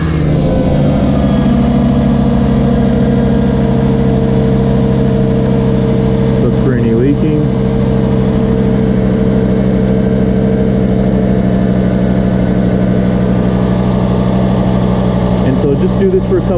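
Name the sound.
car engine started and idling after oil change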